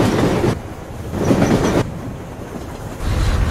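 A train in the video game World's End Club rumbles and clatters loudly along its rails, the steady roar swelling and dropping in sections as the wagons pass, with no talk over it.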